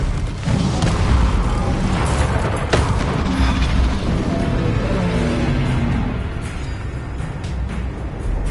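Spell blasts and booming impacts from a Hogwarts video game, including a Bombarda explosion spell, rumbling loud and dense across the whole stretch with a sharp burst near the start and a continuous low battle roar.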